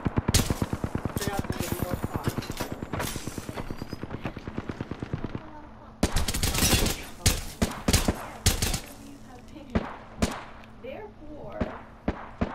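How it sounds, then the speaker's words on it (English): Rapid automatic gunfire from the video game Apex Legends rattles in fast, loud bursts for several seconds, followed by scattered single shots and sharp impacts at close range under faint game ambience. "Opening fire on the enemy."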